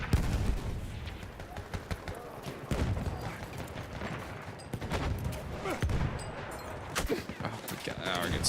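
Light machine gun fire in Battlefield 1 from a BAR M1918 or Burton LMR: dense, sustained bursts of rapid automatic shots mixed with distant battlefield gunfire, steady and loud throughout.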